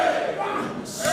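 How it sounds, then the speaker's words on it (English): A professional wrestling crowd at the O2 Academy in Birmingham, England, sends up a loud, sustained roar of booing and shouting that fills the venue without a break. "Listen to the crowd, boos ringing throughout the O2 Academy here in Birmingham."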